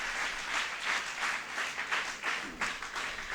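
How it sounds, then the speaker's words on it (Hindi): A seated audience applauds to welcome guests at a talk on Swami Vivekananda's view of confidence and personality development, producing a sustained, moderately distant wash of clapping with no talk over it. "आप सभी वहाँ बैठे बैठे तालियों से स्वागत कर सकते हैं।"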